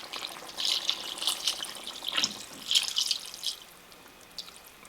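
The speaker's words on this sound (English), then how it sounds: "we're just going to add a little water to slightly cover up to the top of that chicken" Water is poured from a container over chicken in a cooking pot for chicken afritada, making a light splashing trickle in uneven bursts that fades out near the end.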